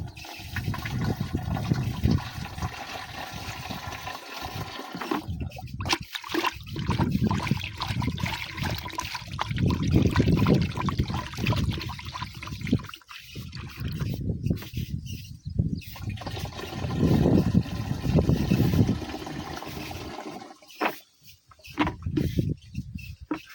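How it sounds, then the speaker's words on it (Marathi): Homemade jaggery water, one litre, being poured into a sprayer pump tank for a chilli crop, a steady trickling and splashing pour with brief pauses, close to the microphone. "आपण 1 लिटर गुळाचे पाणी तयार केलेले ह्या पंपात टाकत आहोत"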